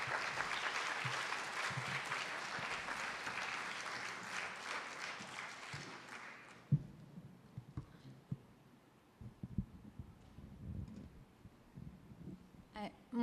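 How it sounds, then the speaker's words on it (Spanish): An audience at a university lecture event on Mexico's National Seismological Service gives loud sustained applause that fades out after several seconds, leaving scattered room noise and movement. "Les pido un fuerte aplauso, por favor."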